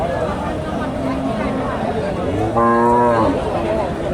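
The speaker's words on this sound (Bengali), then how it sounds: "অনেক উঁচা লম্বা একটা গরু" A tall Jersey-cross cow gives a single deep, drawn-out moo nearby, rising over background chatter of voices at a cattle market in Bogura, Bangladesh.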